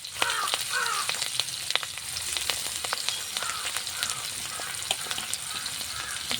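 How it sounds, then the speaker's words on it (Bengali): Green chili, cumin, onion and garlic fry in hot oil in a wok, giving a steady crackling sizzle with sharp pops and spatters. Crows caw faintly in the distance and no one speaks. "কড়াই তেল দিয়ে দিলাম এখন দিব কটা কাঁচা ঝাল জিরা পেঁয়াজ জিরা আর কটা রসুন"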